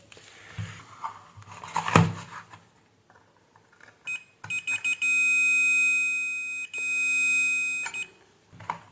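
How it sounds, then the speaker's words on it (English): A multimeter set to continuity beeps while probing an electric kettle's power cable and base coupling connector, giving several short sharp tones and then long steady beeps, close and clear after some handling noise. "Set multimeter to continuity."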